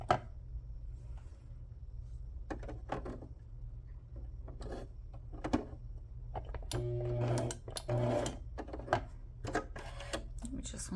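A sewing machine stitches a window pocket into fabric pieces, heard as short mechanical runs of whirring stitches with pauses between, close and fairly loud, with a person talking over and between the bursts.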